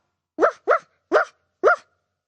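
A person's voice imitates a dog barking, giving four short, loud barks with brief pauses between them.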